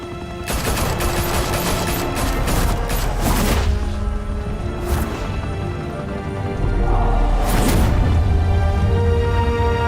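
Heavy, sustained gunfire from the TellTale Batman game rattles in dense overlapping volleys, loud and close, with sharper bursts standing out and no talking over it.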